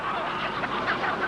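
Indoor factory-farm chickens, hatched in incubators and raised without sunlight, cluck and squawk together in a dense, continuous flock chorus that fills the space at moderate volume.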